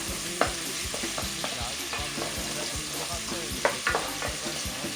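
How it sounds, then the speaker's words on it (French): Onions fry in a pot for a zembrocal of rice and potatoes, a busy steady sizzle with repeated scraping stirs and a few sharper clinks of the spoon against the pot. "nos oignons, il ne faut pas non plus qu'elles soient trop roussis, on va juste les faire blanchir."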